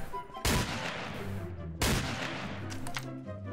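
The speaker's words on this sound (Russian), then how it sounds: "Классная граната огненная." Two sharp, booming blasts from a fire grenade in Garry's Mod, each hitting suddenly and trailing off into a long rumbling decay, roughly a second and a half apart, loud and close with no talking.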